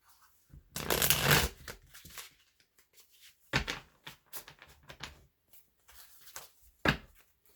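Light Seers Tarot cards are shuffled in several short, crisp bursts of riffling and flicking, close and fairly quiet, separated by brief pauses.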